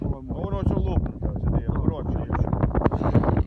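Strong wind on the Dnipro riverbank buffets the microphone in heavy rumbling gusts while someone talks over it.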